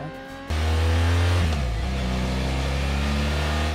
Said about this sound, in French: Ça, c'est le bruit de nos sportives S1000.